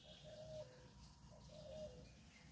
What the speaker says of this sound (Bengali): দূরেও ঘুঘু ডাকছে।